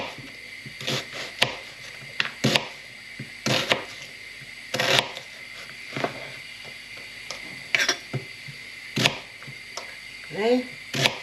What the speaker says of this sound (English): What we're going to do is just need to slice these onions.